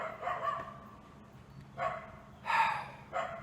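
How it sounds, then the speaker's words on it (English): A dog barks a few times in short, separated bursts, moderately close, with quiet gaps between the barks. "A stupid dog barking."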